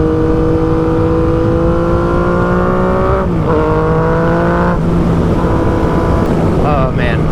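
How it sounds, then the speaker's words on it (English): A 2016 Yamaha FZ-09 motorcycle accelerates on the road, its engine loud and close with revs climbing steadily, brief shifts between gears, and constant wind rush over the microphone. "Oh man, it's just a sweet sounding bike, fun to ride."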